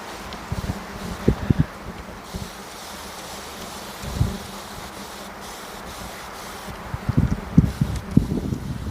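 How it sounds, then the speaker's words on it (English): Steady outdoor wind noise with low rumbling gusts and buffeting that flare up a few times, loudest near the start and end. "And it's windy."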